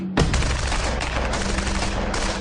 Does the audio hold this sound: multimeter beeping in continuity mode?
no